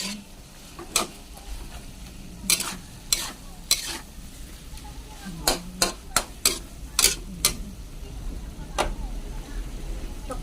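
Carrots sautéing in a pan for menudo, with a soft steady sizzle and repeated sharp scraping stirs of a utensil against the pan, some spaced about a second apart.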